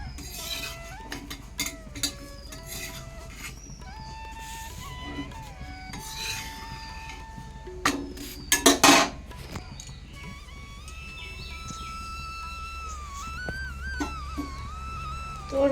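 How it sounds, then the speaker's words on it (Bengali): Roti dough rolled with a rolling pin while another roti cooks alongside in a home kitchen: soft, repeated rubbing and scraping strokes with a sharp clattering burst midway, quiet throughout and without voices. "এই যে একদিকে বেলছি আর একদিকে হচ্ছে রুটি ভাজছি"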